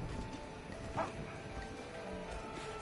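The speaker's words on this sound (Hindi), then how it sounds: "इस कुत्ते की तरह की भौंक रही है भाई।" A robotic machine creature in Horizon Forbidden West lets out a single short, dog-like bark over a steady ambient game background.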